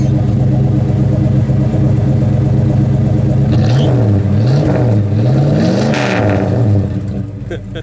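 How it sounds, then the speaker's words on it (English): A 1968 Sport Satellite convertible with glass pack exhausts rumbles loudly up close, its engine holding a steady throaty idle before several rising and falling revs, then settling lower near the end. "Those glass packs sound really nice."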